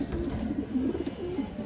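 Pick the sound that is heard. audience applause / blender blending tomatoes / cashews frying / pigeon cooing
pigeon cooing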